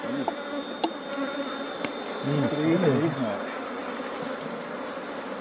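Honey bees hum in a steady dense buzz around an opened beehive super during beekeeping work, close and continuous, with a few light knocks and a voice speaking briefly.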